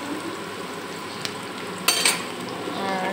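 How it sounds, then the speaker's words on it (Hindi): Onion sizzling in hot oil with a fenugreek tempering in a kadhai, a steady close frying hiss broken by a few sharp clinks of a utensil stirring against the pan. "तो प्याज डाल दिया है मेथी से छौंक के।"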